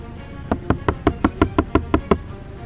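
Door of a Toyota Innova Altera being shut over and over, eight or nine solid, heavy thuds in a quick even rhythm, close and loud with no talk.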